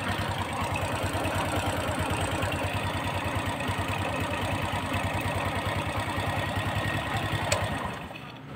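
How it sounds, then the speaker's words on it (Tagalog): A Rusi Delta X125 motorcycle engine idles with a steady, rapid mid-pitched chugging that runs evenly, then drops off slightly near the end. "Yung tunog ng makina"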